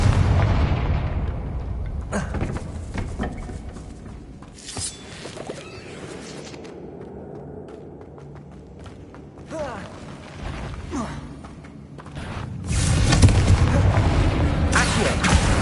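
A Confringo fire spell bursts in the game Hogwarts Legacy, heavy booming blasts with crackling debris and mechanical creaks, loud surges at the start and end around quieter rumbling stretches.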